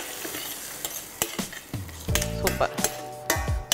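Curry leaves with a pinch of asafoetida drop into hot oil in a pan for orange peel pachadi, crackling and sizzling up close, with repeated metallic clinks and scrapes of a spoon stirring against the pan.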